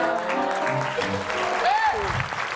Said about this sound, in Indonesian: Ngapain kalian tepuk tangan?